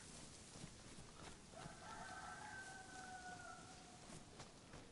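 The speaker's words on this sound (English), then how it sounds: "I can hear a chicken, which would be good food." A chicken in the DayZ game world lets out a faint, drawn-out crow-like call midway, low in level against a steady wash of ambient noise and wind, with no talk.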